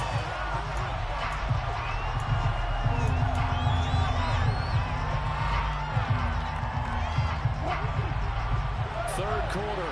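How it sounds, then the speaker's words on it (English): A football stadium crowd shouts and roars while watching a replay, a continuous loud wash of cheering and whoops with talking over the noise. "Plenty of shouts from this crowd as they watch the replay"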